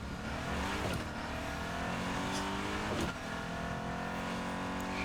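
A car drives along a road, its engine humming steadily with a couple of brief swelling passes, fairly distant and even in loudness.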